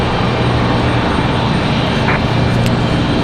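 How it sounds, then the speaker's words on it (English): NetJets Cessna Citation Sovereign business jet arriving at Raleigh-Durham, a loud continuous engine roar over a few seconds with no pause. "This one's going to be coming in on a Cessna Citation"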